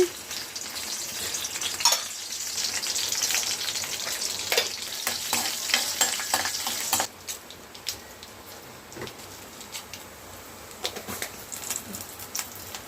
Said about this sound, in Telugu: చారు తాలింపు పెట్టుకుందామండి